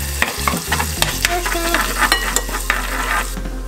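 Ginger hitting hot oil in a pan, a loud close sizzle with sharp scraping clicks of a utensil stirring through it.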